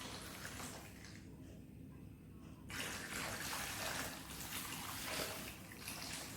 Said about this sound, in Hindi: पानी की ये धार,